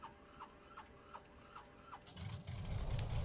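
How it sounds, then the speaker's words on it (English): Engine start of a Carenado WACO YMF-5 biplane in a flight simulator game: a quiet series of regular starter clicks, then the radial engine catches and builds into a loud, rumbling run. "So to start this engine, it's quite easy. You just turn the starter key to the both position and then to start."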